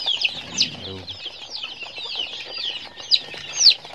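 Young chicks of an unknown local breed, bought from a village seller, peep in a dense, continuous high twitter, with a brief low fluttering cluck early on and a few louder chirps near the end.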